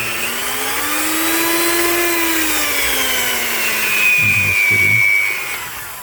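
A hand blender-style kitchen mixer, repaired after a loose wire fell out, runs with a steady motor whine that rises and holds, then dips as a few low knocks sound near the end.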